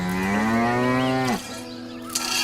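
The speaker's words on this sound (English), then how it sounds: "He is milking the cow." A cow moos loudly in one long, drawn-out call with a falling end while being milked, followed by a short quieter stretch and a faint knock.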